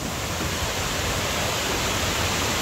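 Kuang Si waterfall near Luang Prabang, Laos, a large natural cascade; a steady, dense roar of falling water fills the air, constant and close, with no voices.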